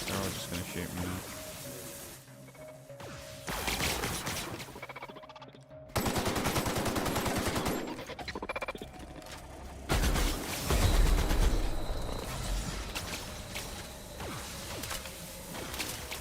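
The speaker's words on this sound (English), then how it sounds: "They're all just going to shoot me now." A video game firefight plays out, with rapid automatic gunfire coming in dense bursts of varying loudness and abrupt cuts between them, together with mechanical clicks and whooshes.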